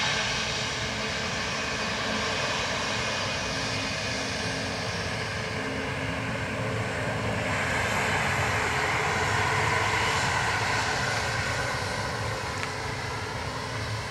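A fixed-wing airliner lands at Dublin Airport on runway 28 left, its engines producing a steady, loud broadband roar that swells slightly toward the middle and holds throughout without any voices.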